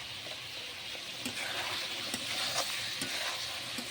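Goat meat, pressure-cooked beforehand, stir-fried with garam masala and cumin powder, giving a steady close sizzle with occasional soft scrapes and taps of stirring and no talking.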